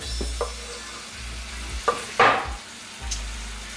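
Onions and garlic cooking gently in a pan over low heat, with a soft sizzle, a low rumble, and a few brief scrapes and knocks of stirring over a few seconds.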